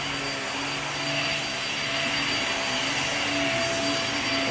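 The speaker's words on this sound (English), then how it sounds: "I'm quite impressed with the performance of this vacuum. It has really powerful suction, some of the best." A vacuum cleaner with strong suction runs steadily and loudly throughout, a constant motor whine with a broad rushing airflow and no pauses or voices.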